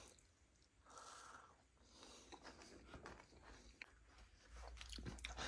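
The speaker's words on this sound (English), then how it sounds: "Let's have a bite of this cereal bar." Someone bites into and chews a crunchy rice cereal bar from a 2016 British military ration pack, producing close, continuous crackling crunches with breathing noises and a few louder snaps.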